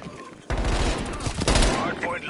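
Rapid bursts of gunfire from a weapon in a Call of Duty-style hardpoint shooter match, loud and close, with short gaps between volleys and game sounds underneath.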